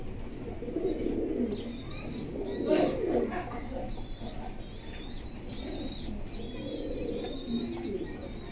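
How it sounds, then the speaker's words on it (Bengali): Racer pigeons coo in soft, repeated throaty calls close by, with faint chirps and a steady background hum. "মানে এগুলোই হলো বাহিরের কবুতর"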